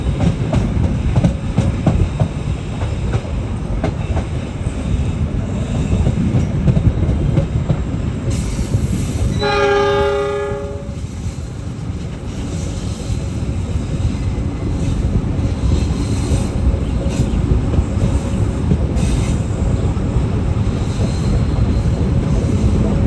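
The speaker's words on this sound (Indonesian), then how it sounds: "Sudah meninggalkan stasiun Jatinegara ya, stasiun singgah terakhir, dan kita bergerak menuju ke tujuan akhir di Gambir." Manahan executive train rolling toward Gambir station after leaving Jatinegara, a steady loud rumble of wheels on rails with a short squealing tone midway.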